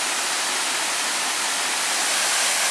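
Steady, loud roar of a waterfall on the Carp River in the volcanic Porcupine Mountains, a dense broadband rush of falling water with no pauses or other sounds.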